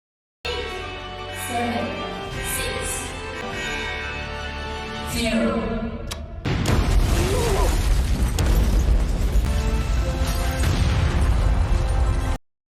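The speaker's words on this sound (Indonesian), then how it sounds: "terjadi beberapa ledakan di Nameless Street" A loud, sustained burst of explosive blasts erupts after a stretch of quieter layered sound, rumbling heavily and continuing with crashing debris-like noise until it cuts off.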